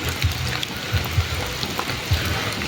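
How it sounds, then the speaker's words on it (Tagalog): Heavy cold rain pours steadily onto flat farm soil planted with pechay, a continuous close hiss of drops with occasional low thuds, with no one speaking. "Kusog ning uwan na gani ha"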